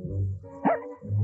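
A dog barks once, sharp and brief, over a low humming background in a 1995 TV commercial, with no talking.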